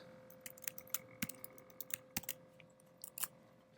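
Computer keyboard keys tapping out HTML code, scattered irregular clicks and short bursts with pauses between them, fairly faint and close, over a steady low electrical hum; no one speaks.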